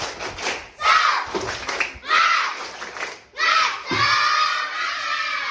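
Students in a classroom do a loud rhythmic spirit clap-and-chant, shouting together in bursts with clapping, three or four energetic rounds close by.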